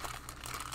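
Crinkling plastic as a model tank kit package is cut and pulled open, a brief close rustle with no voices.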